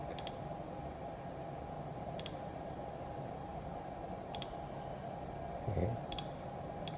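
Sparse computer keyboard key presses, each a sharp isolated click a couple of seconds apart, faint over a steady electronic hum and low background noise.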